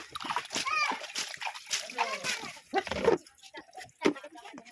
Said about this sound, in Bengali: চলো এটা থাক, পোকাকে ধুয়ে নিই জলেতে।